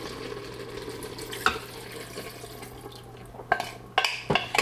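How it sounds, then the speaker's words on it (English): Broth poured into an Instant Pot over tomato, herbs, salt and pepper for a beef barley mushroom casserole, a soft close trickle with a few sharper splashes and clinks toward the end. "We'll add our herbs, our salt and pepper, and our broth."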